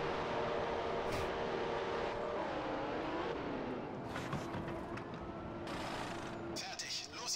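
A racing car in a video game, on the Shanghai circuit, drones and climbs in engine pitch as it accelerates, a steady, continuous whine with brief clicks and bursts on top, and people talking over it.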